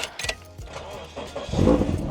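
A Scion FR-S car engine starting up: a brief starter crank, then the engine catches and idles loudly and close at the end.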